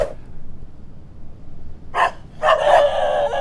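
A few sharp dingo barks ring out after a quiet start, one short burst followed by a louder, longer flurry near the end.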